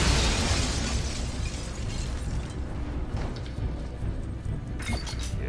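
Explosive rifle shots from the alien weapon in Alien Rage: a loud, blasting burst up front that decays into crackling, debris-like rumble, with another sharp pop near the end.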